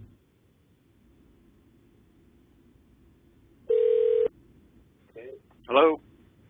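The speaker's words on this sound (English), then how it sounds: "I think it's dialing." Phone call being dialed, with a steady ringback tone lasting about half a second, followed by two short bursts of a voice answering on the line, all against a quiet background.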